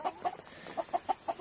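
Ayam Cemani hens on a chicken farm cluck in a quick series of about seven short, near clucks spaced unevenly, with no talk over them.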